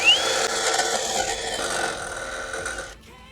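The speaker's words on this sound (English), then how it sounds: "keeping the drill bit parallel to this face, and we're going to move it around towards this first mark at full speed too" A drill runs steadily at full speed against a stone grave surround memorial, giving a loud, continuous grinding whine with a brief rising squeal at the start, then cutting off abruptly near the end.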